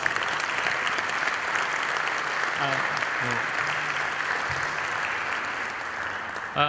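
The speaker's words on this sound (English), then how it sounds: "Let's give him a big round of applause." Sustained applause from a large keynote audience, a dense steady patter of clapping lasting several seconds, with faint voices briefly audible underneath.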